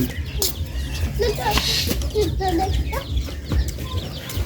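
Broiler chickens at a home-set market selling fish, goats and chicks give off scattered clucks and squawks over a busy, noisy background with people talking nearby.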